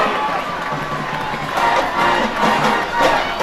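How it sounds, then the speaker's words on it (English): A large stadium crowd roars and cheers steadily, the noise swelling louder in waves toward the end. "This side of the stadium getting loud."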